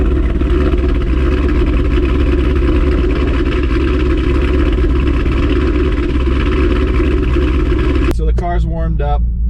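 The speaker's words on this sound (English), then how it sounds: "And then we got that aggressive exhaust note." A cammed Cadillac CTS-V V8 idles with a deep, choppy, loping exhaust rumble that holds steady and loud, and near the end a person starts talking over it.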